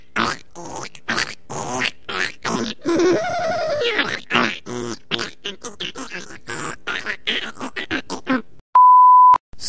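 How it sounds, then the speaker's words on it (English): A teenage gremlin sound effect: a busy string of creature squeals, grunts, groans and chattering noises in rapid bursts, ending with a short electronic beep. "a teenage gremlin."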